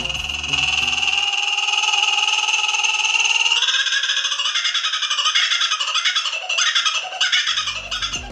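A kookaburra gives its loud laughing call, a close, strident run of rapid, pulsing cackles that rises and breaks into choppy bursts, with no talking.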